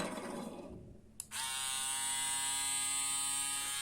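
A Braun Series 3 300 electric shaver buzzes steadily and loudly up close after a brief shuffle and click as it switches on.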